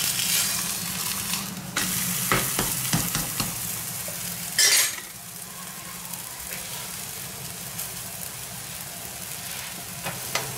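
A millet vegetable paratha made with sorghum and pearl millet sizzles steadily in a pan, with scraping and a sharp clatter as it is flipped partway through, then the frying hiss continues.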